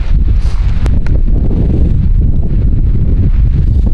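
Strong wind buffets the microphone, producing loud, continuous low rumbling and gusty thumps throughout.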